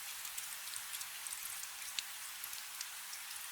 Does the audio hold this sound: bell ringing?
no